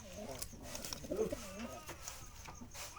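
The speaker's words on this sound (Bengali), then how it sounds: "এগুলো দুইটা লাল বর্ডার জালি কবুতরের বাচ্চা।" Two three-month-old red-bordered Jalali pigeon chicks coo softly in a basket, a low burbling call swelling in the middle over steady background noise and faint talk.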